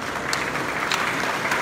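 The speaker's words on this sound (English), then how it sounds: "Give a mighty hand clap to the Lord." A church congregation claps their hands in praise, a steady burst of applause from many people heard throughout the short clip.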